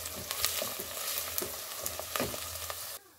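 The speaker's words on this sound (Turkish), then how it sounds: "Salçam da bu şekilde güzelce kavruldu." Tomato paste fries with onion and carrot in a pan, a steady close sizzle with stirring scrapes and clicks, cutting off abruptly near the end, with no talking.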